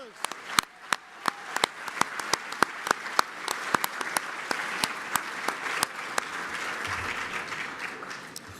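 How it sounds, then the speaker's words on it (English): Audience applauding at the Thurgood Marshall College Fund 30th anniversary awards gala as board members stand to be recognized: dense, sustained clapping from a large crowd in a hall, steady and fairly loud, with sharp individual claps standing out. "Round of applause."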